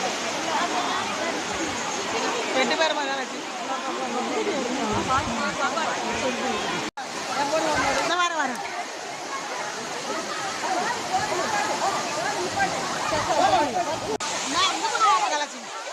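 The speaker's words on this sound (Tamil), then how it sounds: "மெயின் பால்ஸ்ன்னு சொல்லுவாங்க இல்லையா அது இங்கே தான் சரியான கூட்டம்" The steady roar of Courtallam Main Falls, with water pouring down continuously and a crowd of bathers chattering underneath, broad and loud throughout.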